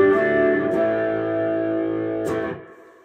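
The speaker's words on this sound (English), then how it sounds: "out of the wah into this old Yeller, which is kind of a lower gain overdrive pedal." Electric guitar played through an old Yeller low-gain overdrive pedal after a wah, a sustained mildly driven chord ringing loud and close, then cut off and decaying near the end.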